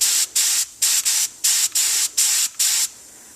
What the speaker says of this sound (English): first thing you do is a test spray to make sure that you get it working well.